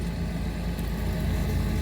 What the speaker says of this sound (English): it's a lawnmower behind me.